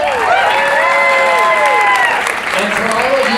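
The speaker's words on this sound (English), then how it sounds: "for all of you that want a round of applause like this" Loud applause mixed with whoops and high-pitched cheering voices from an audience at a tech startup meetup, a dense, lively burst of clapping and shouting close by.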